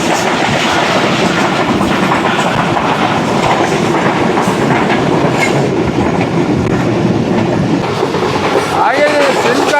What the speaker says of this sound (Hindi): चलिए जी, रात के इस पहर में, सिंध की रात में देखते हैं 146 डाउन सक्कर एक्सप्रेस।